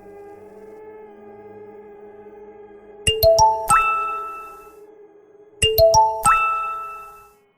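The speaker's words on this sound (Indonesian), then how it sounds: "Terdengar suara panggilan masuk dari handphone Kak Amel." A phone rings with an incoming call in an audio story, a bright melodic ringtone phrase sounding twice in a row, loud and clear over a faint background drone.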